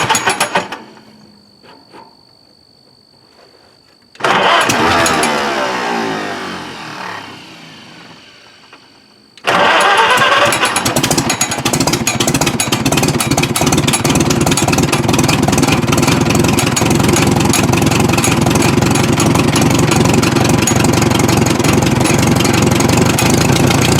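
An old, overgrown Farmall tractor engine cranks and briefly catches, winds down, then fires up and runs loud and steady with a rough, knocking roar.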